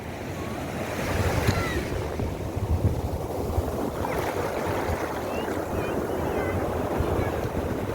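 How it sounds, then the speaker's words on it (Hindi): Loud, continuous roar of Arabian Sea waves breaking and washing up Bekal beach in Kasaragod, with wind buffeting the microphone throughout. "अरब सागर की आवाज़, लहरों की आवाज़ सुन रहे होंगे"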